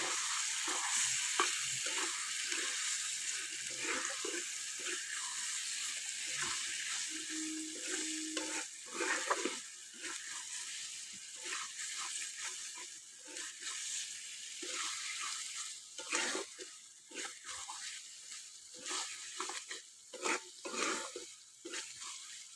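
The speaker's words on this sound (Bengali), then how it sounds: "ভালো করে কষিয়ে নেব" Prawns and potatoes stir-fried in a pan over a clay wood-fired stove: a long frying sizzle with frequent irregular scrapes and knocks of the spatula, nearby, without talk.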